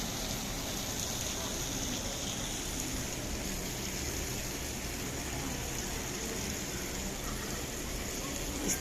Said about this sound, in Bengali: প্রচুর বৃষ্টি হইতেছে